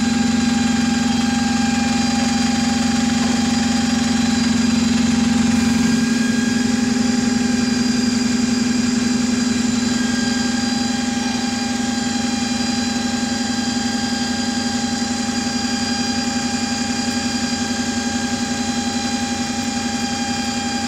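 A large diesel bus engine, an Alexander Dennis Enviro400-type unit, idles steadily with a low, constant hum and faint mechanical rattling, loud and close, continuing unchanged throughout.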